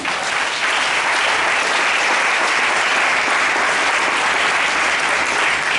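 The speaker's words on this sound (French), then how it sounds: "Si tu es d'accord, acclame Jésus." Sustained, loud applause from a church congregation during a French-language worship service, a dense wash of clapping that fills the whole stretch without letting up.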